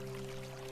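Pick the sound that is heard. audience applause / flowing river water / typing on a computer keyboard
flowing river water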